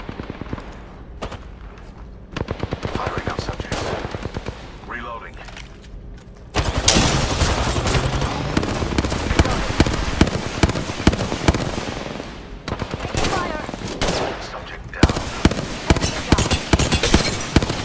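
Rapid gunfire in a battle-royale video game as the player's squad comes under attack, bursts of automatic shots crackling loudly and repeatedly in clusters, with talk over the barrage.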